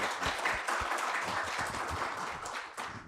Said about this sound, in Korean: 유옥준 원장님 큰 박수로 맞이해 주시죠